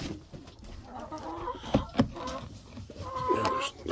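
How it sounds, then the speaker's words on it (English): A broody farm hen in a nest box during egg collection gives low, irregular clucks and grumbles, with a couple of sharper louder sounds in the middle, heard close up. "Whenever they're broody like that, they don't eat a whole lot"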